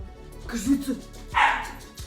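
A dog barks a few times in short yips and woofs, fairly close, with a brief burst of higher-pitched sound in the middle.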